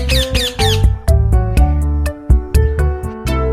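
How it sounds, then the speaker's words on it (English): A parrot's squawk, a loud clear bird call set within a children's alphabet song, with musical accompaniment around it. "P for parrot."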